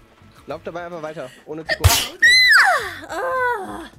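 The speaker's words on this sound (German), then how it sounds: "ich muss ganz arg niesen" A single loud, sharp human sneeze bursts out in the middle of casual German chatter while someone plays a video game, with talking both before and after it.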